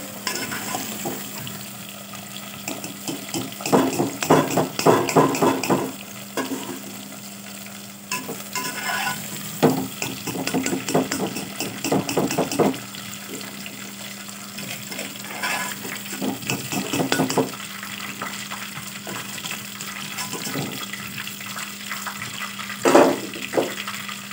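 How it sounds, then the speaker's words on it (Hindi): Cauliflower pieces fry in oil in a pan for a chicken cauliflower curry, a continuous close sizzle broken by repeated bursts of stirring and scraping that come and go. "ये मैंने गोभी डाल दी, इसको अच्छी तरह फ्राई करते हैं।"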